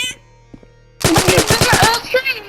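After a quiet second, a loud burst of rapid automatic gunfire in Roblox rattles off in a tight, fast rhythm, with a sharp synthetic game-like quality.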